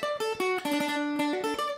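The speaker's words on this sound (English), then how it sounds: "Yeah, this is a mandolin." Mandolin plays a quick melody of bright plucked notes in rapid succession, with shimmering tremolo-like repeated attacks. It sounds close and clear, with no talking over it.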